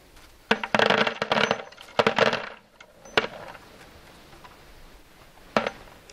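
A medium-sized nut wizard pickup tool collects 12 and 20 gauge shotgun shells as they roll up into its wire basket, making bursts of rattling clinks and clatters separated by short pauses.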